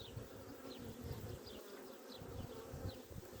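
Honeybees buzz in a dense, steady hum close by at an open hive, with individual bees droning past over a continuous swarm noise.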